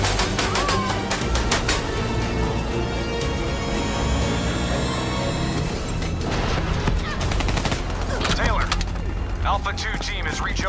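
Dense gunfire fills a Call of Duty: Black Ops III battle. Rapid shots and bursts crackle nonstop over heavy low rumble and clatter, with voices talking through the din.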